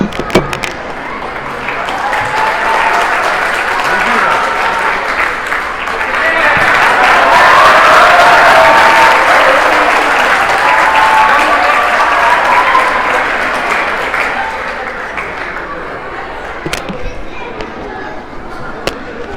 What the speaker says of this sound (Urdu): کتنی تالیاں بجائی آپ نے